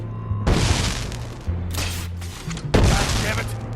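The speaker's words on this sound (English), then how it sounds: "I somehow blew him up without realizing he has a gas valve?" In Dead Rising 4, an enemy's gas valve explodes, setting off loud, dense booms and crackling blasts in two or three heavy bursts over a low steady rumble, with a voice talking underneath.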